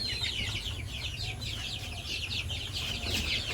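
Many young chickens cheep continuously in a dense, high-pitched chorus nearby, a steady overlapping chatter with a low hum underneath.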